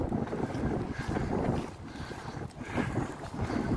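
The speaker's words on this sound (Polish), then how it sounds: "Ale mocno wieje wiatr." Strong wind buffets the microphone in heavy, uneven gusts on a road near wind turbines, a continuous loud roar with no voices.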